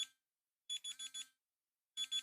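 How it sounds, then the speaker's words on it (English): BlindShell Classic 2 phone timer alarm sounds in short electronic beeps, grouped in quick bursts of three or four separated by silence, clear and close. "when this timer goes off, it's going to use the same sound that you have for your alarm"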